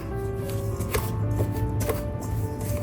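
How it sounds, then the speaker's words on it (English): A pastry dough cutter cuts cold butter into flour in a home kitchen, giving soft repeated crunching chops at an uneven rhythm, close and fairly quiet with no talking. "I'm gonna cut it in with a pastry dough cutter and just work it into the flour"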